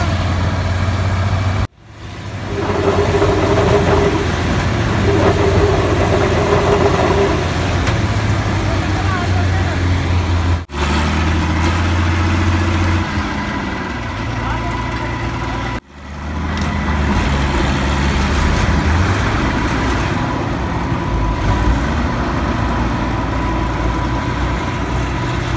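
A New Holland 8070 combine harvester stuck in mud rumbles with a deep, steady diesel drone that rises and settles with strain, with a few abrupt cuts and people talking over it throughout.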